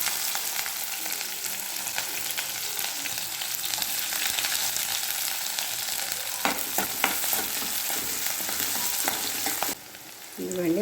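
Onions fry in hot oil with chana dal, urad dal, cumin and mustard seeds for a masala curry, giving a steady close sizzle with occasional stirring scrapes and a short dip in the noise near the end.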